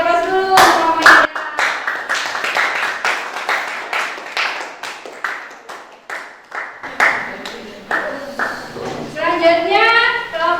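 A classroom group gives a round of hand clapping for a student team, brisk close claps ringing out in a burst, pausing briefly, then resuming with voices chattering over the end.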